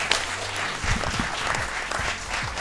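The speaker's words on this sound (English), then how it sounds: "Can we get a round of applause for them" Crowd applause at a LAN gaming tournament grand final, a loud, dense wash of clapping with some cheering mixed in, sustained throughout.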